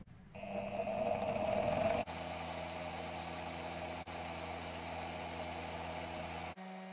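A small steel tube for a fly-tying bobbin holder spins in polishing compound on a powered spindle, giving a steady, close mechanical whirr with a constant tonal hum, slightly shifting in pitch after two seconds and briefly cut at intervals.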